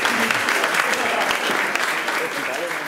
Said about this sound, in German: Ein herzlicher Applaus für die Filmcrew.